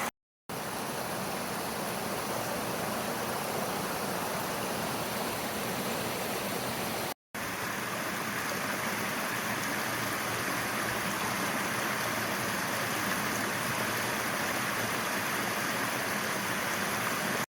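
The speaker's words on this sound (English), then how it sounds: "Look at that waterfall, proper water, little waterfalls there, coming back up from the brook up there." Small waterfalls on a brook in Hall Dale give a steady, dense rushing hiss of falling water, close and continuous, with a brief cut partway through.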